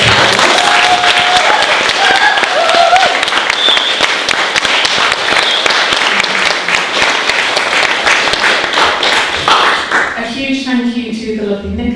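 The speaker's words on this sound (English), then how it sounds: "Please give them a massive round of applause." An audience at an evening community gathering applauds its speakers with sustained, dense clapping mixed with cheering voices, easing off near the end as people begin talking.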